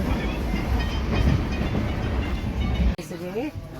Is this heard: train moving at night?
yes